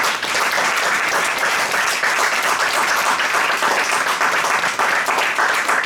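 A church congregation bursts into dense, sustained applause, with many hands clapping loudly and evenly for several seconds.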